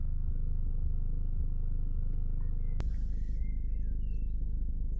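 A parked car idles nearby on a quiet evening, its engine a steady low rumble throughout, with a sharp click and faint bird chirps over it.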